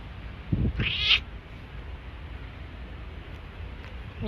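A cat on Malta gives one short meow, close and clear, against steady low background noise with nothing else notable.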